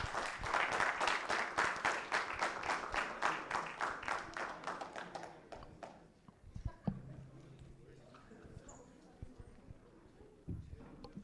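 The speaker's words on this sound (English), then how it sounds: "I really want you guys to give these guys a round of applause" Audience applause at a charter school conference media day, a loud burst of many hands clapping that fades over several seconds into scattered claps and room noise.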